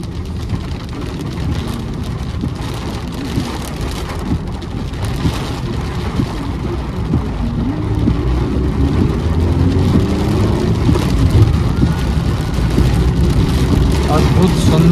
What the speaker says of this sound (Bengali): বৃষ্টির আওয়াজ আর এই বৃষ্টিতে গাড়ি চালানো